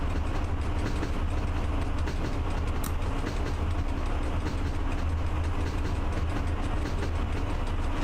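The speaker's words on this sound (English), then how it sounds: "Currently I'm pulling passenger train, so it's not a freight train." A passenger locomotive hauling nine passenger cars in a train driving game rumbles steadily along the rails at speed, a continuous loud mechanical drone with faint rhythmic clatter and no voices.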